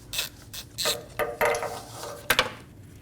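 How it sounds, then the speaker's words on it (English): A ratchet with a 12mm socket and extension works the bottom intake manifold bolt loose on a 2008-2015 Scion xB 2.4L four-cylinder, giving several close, loud clicking bursts in uneven strokes. "12mm socket, we're going to remove the bottom bolt for the intake manifold"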